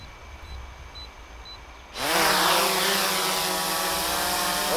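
An Autel EVO drone spins up for takeoff after a low idle, its rotors suddenly bursting into a loud, steady, high-pitched whine that holds close by.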